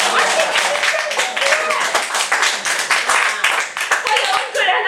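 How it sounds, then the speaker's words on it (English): Brisk group clapping during a talk on the body's biological clock, a dense run of many overlapping claps that stays loud and continuous throughout, with voices mixed in. "Hey, let's clap, Lee!"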